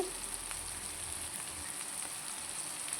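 Cluster beans (gorchikkudu) frying in a pan, a steady close hiss and sizzle with faint crackles running evenly throughout, no voices.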